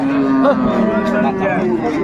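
A cow with her calf at a busy rural cattle market in Bangladesh, giving a loud, close, drawn-out moo over the murmur of the market crowd.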